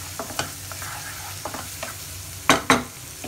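Chopped ginger and garlic frying in hot oil, a close steady sizzle with light spatula scrapes and two sharp, loud stir strokes near the end.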